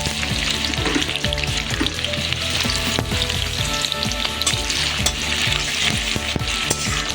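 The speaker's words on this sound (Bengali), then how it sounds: "পেঁয়াজটা একটু হালকা লাল লাল করে ভেজে নেব" Two medium onions fry in hot oil after a whole-chilli tempering. A loud, steady sizzle runs throughout, with frequent clinks and scrapes of a spatula stirring the pan. There is no talk.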